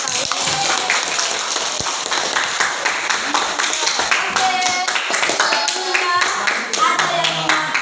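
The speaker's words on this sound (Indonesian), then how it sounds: "Jadi kita kasih aplaus lah buat kelas kita" A classroom of students clapping together in a steady, dense burst of applause that carries on throughout, close and fairly loud, with some voices mixed in among the claps.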